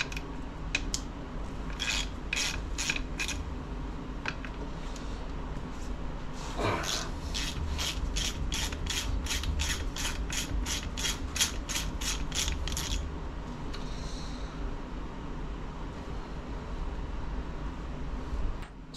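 A ratchet wrench removing 9/16 screws while a transmission case and shifter are assembled: two bursts of rapid, rhythmic clicking ratchet pawl sounds, close and clear, over a steady background hum.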